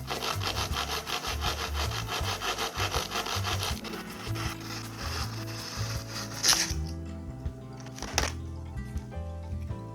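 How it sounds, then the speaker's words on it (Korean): A hand saw cuts through a wooden wall panel board held against a guide, giving steady rhythmic back-and-forth rasping strokes up close that slow and stop near the end. "이제 가이드 끝면에 톱을 대고 톱질을 하는 거예요."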